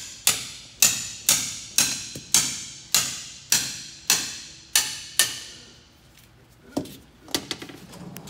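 A tool is driven through the bottom of an oil filter on a Detroit 60 Series engine: about ten sharp, evenly spaced metallic strikes ring close and loud, followed by softer scattered knocks.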